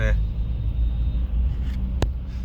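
Steady low engine rumble and road noise fill the cabin of a Mahindra Thar Roxx petrol SUV driving through Gurugram city traffic, with a brief sharp click and no clear revving.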